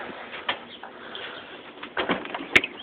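Pigeon-like cooing from birds outdoors, soft and somewhat distant, with a few flaps and a brief sharper chirp near the end, heard alone without talk.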